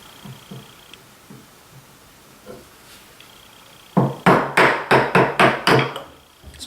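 A mallet drives a chisel into the wood of a dresser with rapid, evenly spaced sharp whacks. They are loud and close, and quieter taps and rustling come before them.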